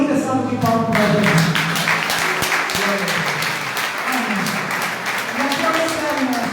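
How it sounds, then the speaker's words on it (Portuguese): A church congregation applauding, a dense patter of many hands clapping together under music and a voice, sustained across the whole stretch. "Dê uma linda salva de palmas para Deus"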